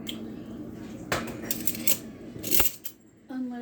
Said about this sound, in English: Unloading the silverware was literally just like some butter knives and a few spoons